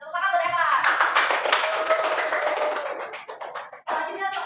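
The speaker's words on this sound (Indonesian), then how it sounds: "Tepuk tangan buat Eva." Classroom applause for a student who answered correctly: a quick burst of clapping from a group of pupils, close and lively, mixed with children's voices and chatter throughout.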